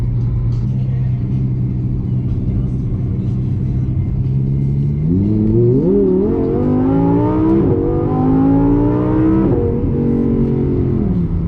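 An Audi R8 engine drones loudly, then revs up through several rising pulls with gear changes, its roar dominating throughout with no talking.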